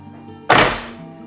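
A single solid thunk as the door of a 1966 Chevrolet Impala SS 427 swings shut, close and loud, with a short decaying tail and no talking.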